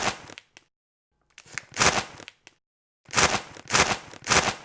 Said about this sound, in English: this is the sound of me opening up a bag of chips